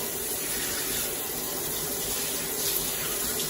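Tap water runs steadily into a sink while a fresh fish fillet is rinsed under it, a close, continuous hissing splash with no talk.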